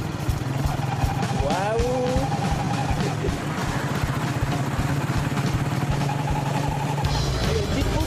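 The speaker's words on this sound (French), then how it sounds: "C'est la première fois que je pars avec une moto pourrie." Old, beat-up motorcycle ridden in Iran, its engine a constant rough drone throughout, with a brief voiced exclamation partway through.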